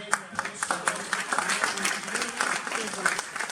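Audience applause for a speaker at a cultural centre talk in Fez, a steady patter of clapping from a room of people, mid-level and continuous with scattered louder claps.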